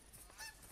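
Geese honking in a duck and goose hunting video game, a brief faint cluster of nasal honks over quiet background hiss.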